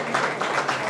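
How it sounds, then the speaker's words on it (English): Audience applause at a community gathering honoring a speaker, a dense continuous wash of clapping that swells in steady waves and stays loud throughout the short burst. "You want to know why we giving you a round of applause, sir?"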